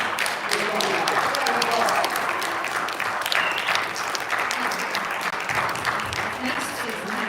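Audience applause fills a school board meeting room, a dense, steady clapping from many hands that stays loud and continuous for the whole stretch.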